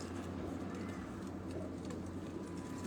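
Pigeons coo on a house rooftop on Chak Beli Road in Rawat, faint murmuring calls half buried in constant broadband outdoor noise.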